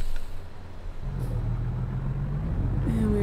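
A diesel truck engine starts up in the American Truck Simulator game with a low, rumbling idle that steadies and rises slightly, alone and fairly close.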